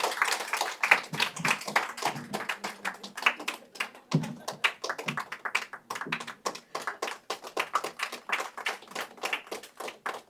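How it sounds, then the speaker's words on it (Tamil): A small audience of about fifty people claps at a book release event, a dense patter of many hands that holds steady for around ten seconds, fairly close and with no speech over it. "நல்லா கைத்தட்டலாமே, இருக்கிற ஒரு 50 பேர் நல்லா கைத்தட்டினாலும் நல்லா இருக்கும்"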